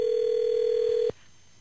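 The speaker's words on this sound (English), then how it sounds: "let me see if I can get him on the phone here" A steady electronic tone holds for about a second, then cuts off abruptly, leaving quiet line hiss; a phone line on an outgoing call.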